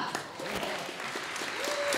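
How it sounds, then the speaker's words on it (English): Applause from guests at a human microchipping party, a continuous patter of clapping hands at moderate distance with voices talking and calling out over it. "An applause"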